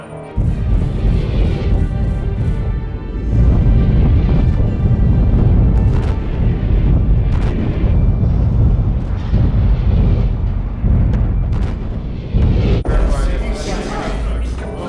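A ship's secondary battery fires in a loud, continuous barrage of booming blasts and crashes, dense and close, with overlapping rumbling explosions throughout.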